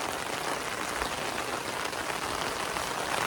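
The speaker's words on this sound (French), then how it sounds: "Lots of rain. Beaucoup de pluie." Heavy rain pouring steadily outside a camper, a dense, loud, even hiss of drops drumming on surfaces with no pauses.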